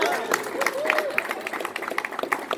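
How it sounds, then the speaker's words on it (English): A crowd claps to welcome a guest to the stage, the scattered applause fairly close and moderately loud, with a voice speaking over it. "Now give him a round of applause."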